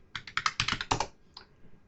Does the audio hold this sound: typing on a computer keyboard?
yes